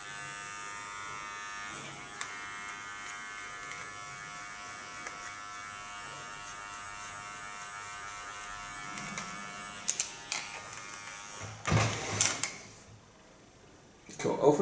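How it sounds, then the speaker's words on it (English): An electric hair clipper hums steadily up close while cutting hair, with a voice talking over it and a few clicks and handling knocks near the end. "holding my clipper in an angle and make a nice flowing contour line."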